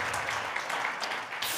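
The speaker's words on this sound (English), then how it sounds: "Give him a round of applause." A church worship gathering's audience gives a round of applause, a steady, moderately quiet patter of many hands with a few brighter bursts scattered through.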